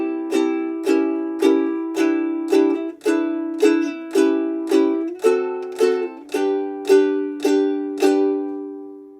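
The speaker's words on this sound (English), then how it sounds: "So if I play these 4 bars slowly, just playing down strums, it would sound something like this." A ukulele plays slow single down strums through the chords of a song, about a dozen evenly spaced, ringing strums, clear and close with no voice.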